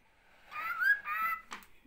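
Cockatiel parrot whistles in a few short, bright, rising phrases with brief pauses, close and clear, no voices over it.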